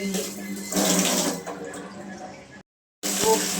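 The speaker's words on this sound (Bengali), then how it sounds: "আজকে সাড়ে ছটার সময় জল চলে এসছে" Water gushes from a household tap in a steady splashing stream, cutting out briefly and then running again, close and fairly loud.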